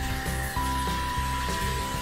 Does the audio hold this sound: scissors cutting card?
no